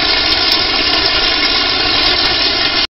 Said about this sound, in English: And now he's having a shower.